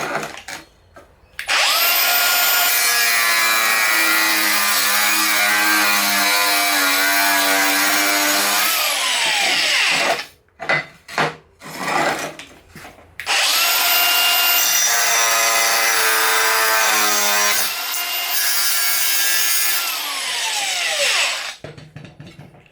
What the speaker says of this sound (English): we're going to be cutting a standard ceramic tile